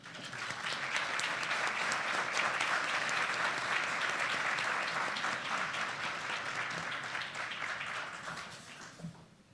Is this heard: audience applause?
yes